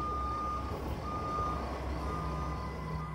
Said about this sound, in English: He's reversed his truck into the shed